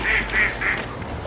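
Sebastopol geese at a small animal sanctuary give three quick, nasal honking calls in an even rhythm, close and fairly loud over a low background rumble.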